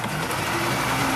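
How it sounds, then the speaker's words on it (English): A pontoon boat's outboard motor, started with a key and choke, churns and whirs in a continuous mechanical drone for about a second, close and fairly loud, with no talk. "Now you try to start the boat."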